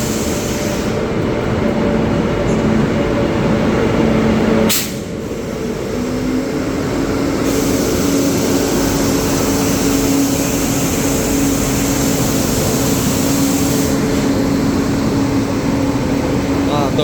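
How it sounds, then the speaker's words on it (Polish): A locomotive pulling a train arrives at a railway station in India, rumbling past close by with a steady low roar and rolling rail noise, a brief sharp squeal or clank partway through. "Tu już lokomotywa nadjeżdża, a tam jeszcze dalej na tym zakręcie wchodzą wagony."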